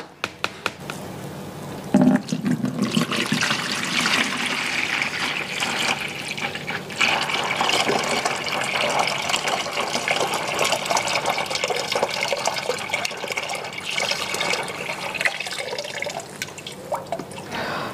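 Flavoured drink liquid made from premix powder pours and drips steadily through a sieve, a continuous close trickle and splash lasting throughout with no talking.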